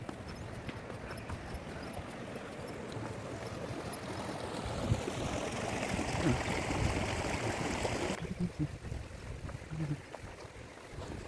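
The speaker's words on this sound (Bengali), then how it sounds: "এইখান থেকে একটা ছোট্ট নদী বেরোচ্ছে," A small river stream flowing beside Deorali river camp near Dudhia, a steady broadband rush of water running throughout, fairly close, with a duller, quieter stretch toward the end.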